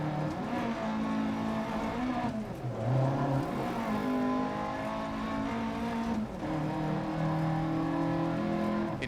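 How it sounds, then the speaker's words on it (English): Rally car engine in DiRT Rally 2.0 on a New Zealand stage, loud and sustained, climbing through revs and dropping at gear changes, with no talk. "The engine is just so angry at me."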